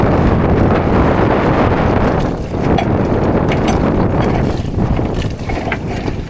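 Rough sea washes and slaps around a boat at sea, a continuous loud rush of water and wind buffeting the microphone with no pauses, broken only by faint knocks and splashes.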